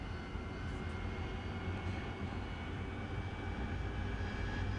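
AV-8B Night Attack Harrier jet engine at full takeoff power in the DCS flight simulator, a loud, steady, continuous roar and whine filling the whole stretch without breaks.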